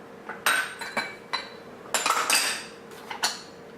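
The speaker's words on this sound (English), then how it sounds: "I'm just going to move the little bowls aside here" Small bowls clink and knock on a kitchen counter as they are slid aside in a handful of short, close, hard taps while making granola bars, with no talking.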